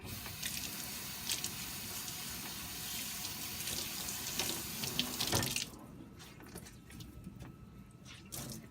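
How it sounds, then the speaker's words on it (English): Tap water runs steadily from a faucet while washcloths are wetted at a sink. It sounds loud and close, then cuts off abruptly partway through, leaving quiet handling noises. "I'm going to make them a little bit wet and then wring them out"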